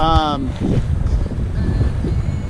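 A Dana 24 sailboat under full canvas on a reach, returning from Ensenada, Mexico, with steady wind rushing over the microphone and water washing along the hull; a brief tone sounds at the start.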